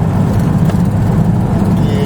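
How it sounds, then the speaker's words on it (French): A vehicle overtakes a truck on a road near Kisantu, with a steady, loud engine and road rumble throughout and a voice talking over it. "Nous dépassons le camion,"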